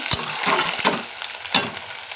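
A spice paste sizzles and crackles as it fries in a pan, with a few scraping stirs and clinks breaking through.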